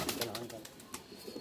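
Deobandi pigeon with pure white feathers cooing in short, soft, rhythmic pulses, close by, with a voice in the background.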